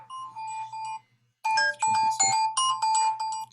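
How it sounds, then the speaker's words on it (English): A phone rings with an incoming call during an office video conversation, a repeating electronic ringtone of bright bursts, one short phrase, a pause, then several more close, steady chimes with no talk over it. "sorry. Phone call."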